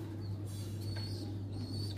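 Pigeon held in a hand, restless, giving soft low coos over a steady low hum, with faint chirps in the background.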